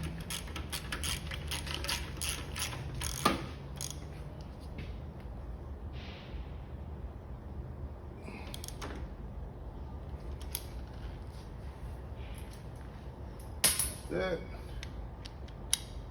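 Quiet mechanical clicks, creaks and metallic taps come from clamping the fork of a Honda VTX 1300C motorcycle to unload its spring during a fork seal rebuild, with a few sharper knocks near the end.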